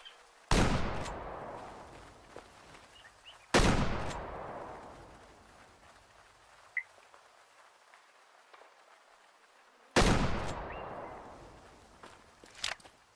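Three loud, sharp rifle shots ring out from a hunting game set in the wilderness, each spaced several seconds apart and trailing off in a long echoing decay across open terrain, with faint ambient sound between.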